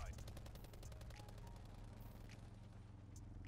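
Rapid automatic gunfire in the Black Ops 4 video game, aimed at a care package, crackles as a dense continuous burst of repeated shots, loud and steady, with game noise and a voice underneath.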